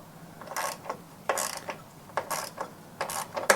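Ratcheting clicks from tightening the blade fitting on a Toro/Exmark 30 inch mower come in several short, crisp bursts with brief pauses between them, close and fairly quiet.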